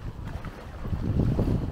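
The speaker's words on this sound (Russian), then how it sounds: "Лодочки моторные." Motor boats in a harbour give a low, steady rumble and churn of engines and water, fairly close, with wind noise and no talk.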